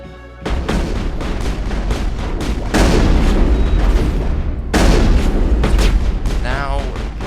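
Gunfire exchange in the video game Mass Effect: loud, dense bursts of weapon fire and booming impacts run almost continuously, with a sudden heavier surge partway through and a brief electronic whine near the end.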